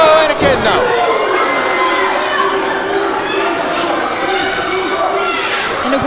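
A wrestling crowd at a live match roars and cheers loudly and continuously, with high shouting children's voices and excited chatter filling the space.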